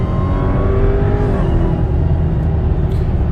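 A Dodge Hellcat on Nitto 555RII tires pulling hard under full throttle, a loud, dense engine roar heard from close by without a break.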